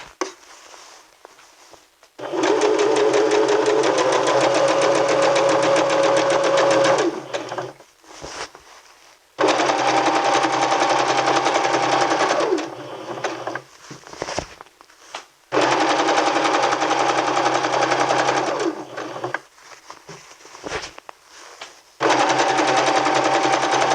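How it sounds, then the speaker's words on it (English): A sewing machine runs a basting stitch along a T-shirt dress in four long, loud bursts of rapid needle chatter. Brief pauses between the runs carry faint handling noises. "You want to change to a basting stitch and then go ahead and baste"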